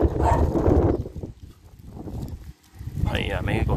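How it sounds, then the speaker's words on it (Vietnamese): Dogs bark noisily in a busy outdoor setting, their yaps mixed with a clatter of background activity and people talking, fairly loud and close throughout. "mấy con chó nó ồn quá đi."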